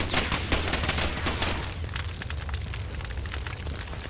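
Explosions and gunfire rumble through a Far Cry 2 fight, a dense, loud, booming wash of blasts and crackling shots that fades slightly toward the end.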